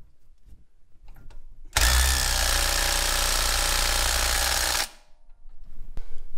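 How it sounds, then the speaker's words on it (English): An impact wrench loosening a shock bolt on a Jeep Wrangler, a single loud sustained rattling burst of about three seconds that starts and stops abruptly, with quiet before and after. "we're just gonna undo the shock bolt really quick"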